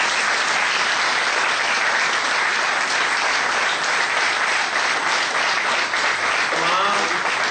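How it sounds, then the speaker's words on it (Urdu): After a police lecture on threat assessment and target hardening, a hall audience gives continuous, dense applause that fills the room from start to finish, with a brief voice near the end. "ایک دفعہ کھڑے ہو کر سر کے لیے تالیاں"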